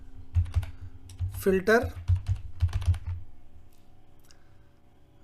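Fingers type on a computer keyboard in rapid, uneven bursts of close clicks and taps. A short spoken word breaks in near the middle, and the typing fades out toward the end.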